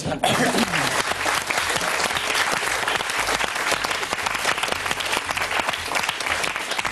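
Studio audience of a French television show bursting into applause, a dense crowd clapping that starts abruptly and stays loud and steady for several seconds.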